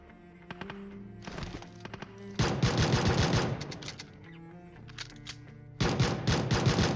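Pistol gunfire in a mobile battle royale game comes in sharp, clustered bursts of repeated shots, with a quieter gap midway before another loud volley near the end.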